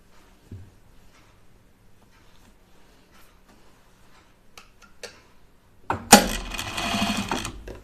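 A sewing machine runs a seam on a high-neck sweatshirt, starting after several seconds of quiet handling clicks and then whirring steadily and fairly loud through the last two seconds.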